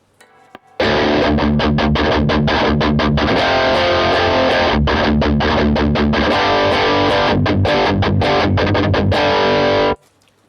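A heavily distorted electric guitar played through a Revv G3 distortion pedal plays loud, saturated riffs and chords with rhythmic stops, continuous for about nine seconds, with no talking.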